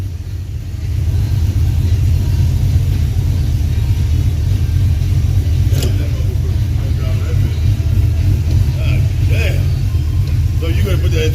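Engine of a 1983 Oldsmobile Cutlass T-top idling with a steady deep low rumble, continuous and close for the whole stretch, with faint background talk and a few clicks over it.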